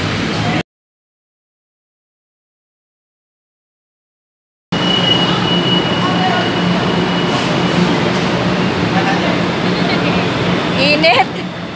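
LRT light rail train in Manila, heard as a loud, steady rolling rumble with a hiss of wind and track noise after a brief cut to silence, faint voices mixed in.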